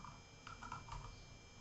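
Several quick, light keystrokes on a computer keyboard are tapped in a short irregular burst, faint and close, with a steady electronic hum behind them and no speech.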